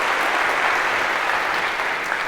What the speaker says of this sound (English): a round of applause for our volunteers